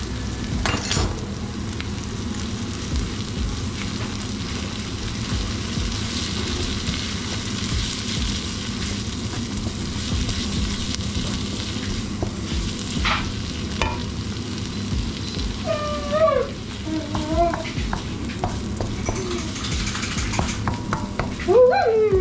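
Onions with tomato puree sizzle and fry in a pan, under a steady low cooking crackle with a spoon occasionally scraping and stirring, plus faint clinks of utensil against the pan.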